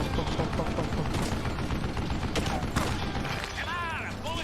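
Gunfire in the western shooter Call of Juarez: Gunslinger, a rapid string of sharp gunshots and mechanical clicks over game sound, with a voice talking during the shots.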